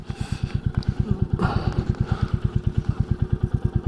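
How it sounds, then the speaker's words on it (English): A 2022 Royal Enfield Classic 350 motorcycle engine idles with a steady, rapid throbbing pulse, close by, and a brief clatter partway through. "I've got to keep the engine running"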